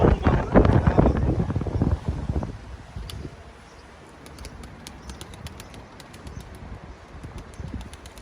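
Young pigeons flap their wings in a loud close burst at the start, followed by softer rustling and light wind noise, with faint bird sounds in the background.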